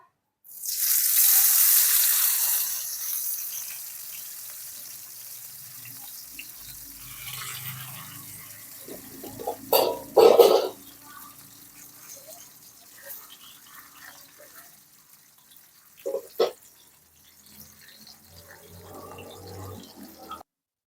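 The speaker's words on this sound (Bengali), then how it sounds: "আমাদের মাছটা ভাজা হচ্ছে" Folui fish dropped into hot oil in a pan on a gas flame, a loud hissing sizzle bursting up at the start and then settling into a quieter simmer, with a few clattering knocks later on.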